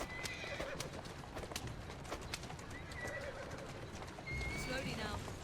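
Hooves clip-clop steadily beneath a horse-drawn carriage in Assassin's Creed Syndicate, with a horse neighing and whinnying along the way, while pigeons coo faintly in the background and a voice talks over it.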